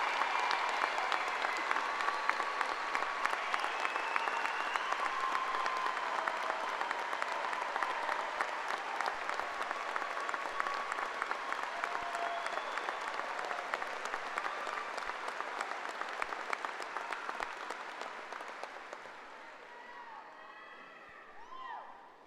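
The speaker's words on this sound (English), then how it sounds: "Let us give these young adults a round of applause to show appreciation." A large audience at a high school graduation ceremony claps steadily and densely for graduating students, a sustained wash of applause that holds for about twenty seconds before tapering off, with a few faint cheers mixed in.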